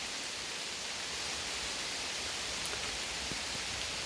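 Steady downpour drums over a wood yard near a swamp, a thick, unbroken wash of rain noise holding at an even level throughout with no talking.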